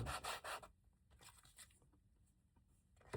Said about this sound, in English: Let's go ahead and take our 120 and see if we can sand a little bit of this off here